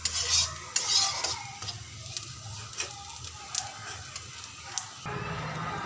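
Bottle gourd peels stir-fried in a pan, with repeated scraping and clinking of a spatula against the metal over a soft sizzle, close and fairly quiet, with no talk.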